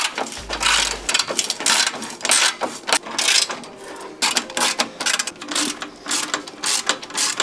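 A ratchet wrench tightening an exhaust clamp on a second-generation Ford Raptor 3.5 EcoBoost during an AWE exhaust install, giving close, steady bursts of rapid clicking with short pauses, no talking.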